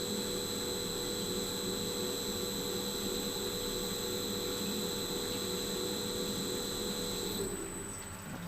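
A laundry washing machine spinning with a steady high whine and hum, the tone dropping near the end as it winds down toward a stop.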